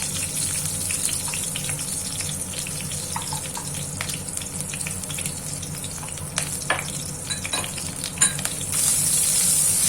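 Curry leaves and crushed ginger fry in a pan with a strong, continuous sizzle, broken by scattered scraping and clinking stirs that grow busier toward the end, with no talking.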